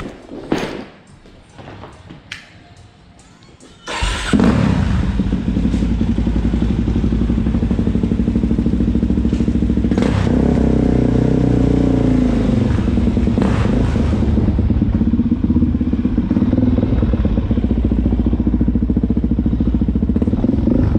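Suzuki DR650 dual-sport motorcycle, about 80 pounds heavier than a motocross bike, riding after FCR carburetor needle and air screw tuning; a brief clatter, then a loud, steady engine roar with a few throttle swells, close and continuous.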